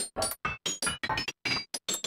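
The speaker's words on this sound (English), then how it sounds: "A pretty basic granular effect in here." Knocking sample run through the granular engine of the Arturia Pigments 4 synth, heard as about ten short, choppy bursts of clattery, glassy texture with brief silent gaps between them.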